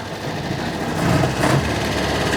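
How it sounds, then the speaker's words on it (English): Busy mechanical whirring and rattling from the gearbox of a 1929 Austin 7 Chummy, a steady close drone with fine buzzing texture that swells slightly midway, no talking. "there's some funky noises coming from that gearbox"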